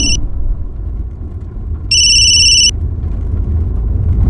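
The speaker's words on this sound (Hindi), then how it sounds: "फोन उठाओ" A short electronic phone ring cuts off at the start, then one more ring burst sounds midway over a low background rumble.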